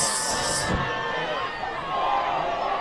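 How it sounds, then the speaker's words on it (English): A crowd cheers and shouts at a high school varsity football game between Cicero-North Syracuse and Christian Brothers Academy, a busy, distant roar with whoops, heard under a commentator's talk. "crowd getting into it, so are the cheerleaders"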